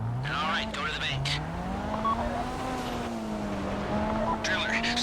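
Car engine in GTA 5 Online whining up and down in pitch as the vehicle drives, with bursts of tire squeal, loud and steady throughout with a voice talking over it.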